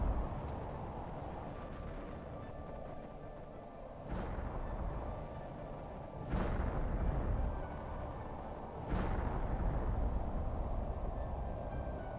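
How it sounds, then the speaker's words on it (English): Three pressure rockets launch one after another in the survival game Planet Crafter, each a sudden deep rumbling burst that settles into a sustained roar over a steady low background hum. "I'm sending up another pressure rocket because I really want to ramp up our pressure production."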